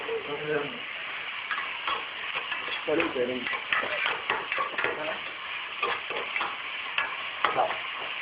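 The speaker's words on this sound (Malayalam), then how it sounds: "ഇടവ് കൈ കൊണ്ടോ വലവ് കൈ കൊണ്ട് ഇളക്കാം" Fish curry masala frying and being stirred in a pan, with continuous sizzling and scraping spoon strokes in an uneven rhythm, close and fairly loud, while a person talks over it.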